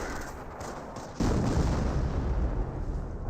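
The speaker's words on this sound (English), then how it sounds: "Why would he barrage there" An artillery barrage in Company of Heroes lands with a sudden heavy blast partway through, followed by a sustained low rumble of explosions.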